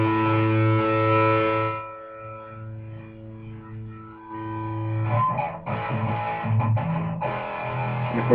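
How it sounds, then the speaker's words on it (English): Schecter Solo 6 Spitfire electric guitar played through a Peavey 6505+112 tube amp on its raw lead channel, with thick distorted sustained chords, a brief quieter gap, then choppy palm-muted riffing over faint amp hum. "That's just the raw lead channel without any of those added bonuses."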